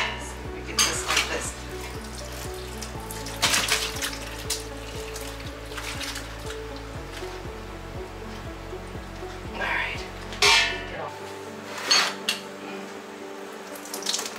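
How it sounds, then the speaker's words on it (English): Water pours and runs out of a cooking pan into a kitchen sink in steady streams, with occasional clanks of cookware, all over quiet background music. "it's to drain the liquid in the pan and let all the water run out."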